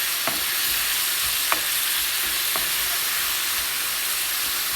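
Onions frying in oil with herbs and spices for a Nepali-style fish curry, a steady close sizzle with a few sharp clicks of a utensil against the pan spaced through the clip.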